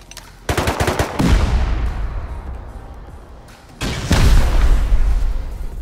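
Rocket and C4 explosions in the video game Rust, two loud, booming blasts a few seconds apart, each opening with a rapid crackling burst and then a long rumbling tail, close and heavy.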